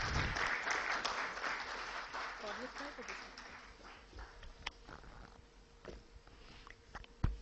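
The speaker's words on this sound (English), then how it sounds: "Ladies and gentlemen, please, with a round of applause, welcome Dr. Manjula Pooja Shroff." Conference audience at a national conference in Bengaluru gives a round of applause welcoming a speaker, dense clapping strongest at first and thinning out into scattered claps with a few late sharp ones.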